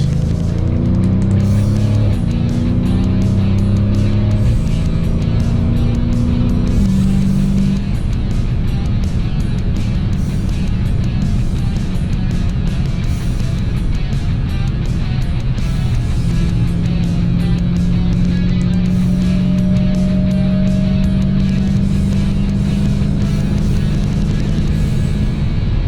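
A 2020 Dodge Challenger Scat Pack driven through a run of tight curves, its engine droning loud and steady from inside the cabin, the pitch rising and falling with the throttle and gear changes.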